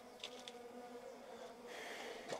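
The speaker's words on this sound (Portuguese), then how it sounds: "É uma forma de defesa das abelhas nativas também." Native stingless bees buzzing around a hive box, a steady, faint insect hum with a few brief louder passes of bees flying close by.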